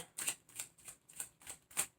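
Tarot cards shuffled by hand in a steady run of six crisp riffling bursts, each a papery flutter about a third of a second apart, close and fairly soft with no talking.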